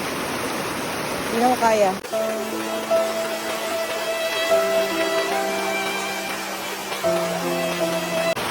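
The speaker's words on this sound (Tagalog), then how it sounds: "Pero mas kusog diri ang sulog." The strong current of the Pamantingan River rushes steadily and loudly throughout, a constant broadband roar with people talking and calling out over it.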